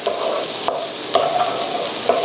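Onions stir-fried in a pan for crab croquettes: a steady sizzle with a few scraping strokes of a spatula against the pan, close and clear, no voices.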